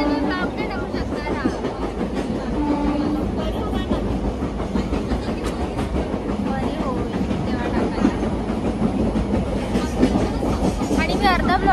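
A moving passenger train rumbles steadily on its rails with a rhythmic clickety-clack of the carriages. The sound is loud and continuous throughout, with faint voices of people on board mixed underneath.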